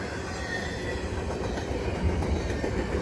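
BNSF intermodal freight train rolling past at close range in Lewis Center, Ohio, a steady loud rumble of wheels and cars with faint rail clatter throughout, no voices.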